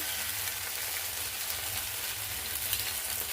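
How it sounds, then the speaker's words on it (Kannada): Oil sizzles in a pan while a quick breakfast dish made with bottle gourd fries, a continuous soft, even hiss with faint crackles. It stays low and steady with no voices. "ಮ್ಯಾಲೆ ಎಣ್ಣೆ ಹಾಕೋಣ"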